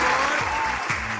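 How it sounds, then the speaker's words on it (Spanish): A crowd claps loudly and continuously, a dense patter of applause over a low murmur. "Fuerte el aplauso"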